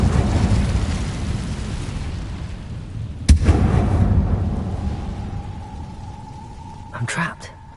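An Incendio fire spell is cast in Hogwarts Legacy: a loud, sharp burst lands mid-clip over a dense, rumbling roar, which fades into a lower hum before a brief flare near the end.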